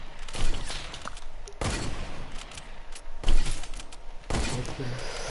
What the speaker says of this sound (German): Ich höre nur Schüsse